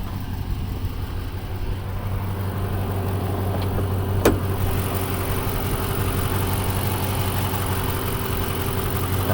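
A 2011 Dodge Charger engine idling steadily nearby, a constant low rumble with a brief faint click partway through.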